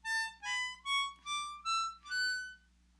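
A harmonica in A plays the second octave of a chromatic scale, six clear sustained notes stepping upward one after another, bright and reedy, close and alone with a faint low hum beneath.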